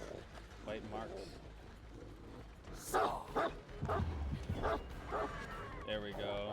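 Houndmaster's dog in Dead by Daylight barking and yipping in short bursts mixed with whimpers, heard under frequent talking during gameplay.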